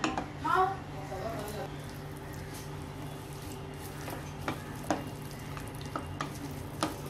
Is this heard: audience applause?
no